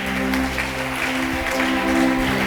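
A church congregation cheering and applauding, dense continuous clapping mixed with crowd noise, loud and sustained with a steady hum underneath.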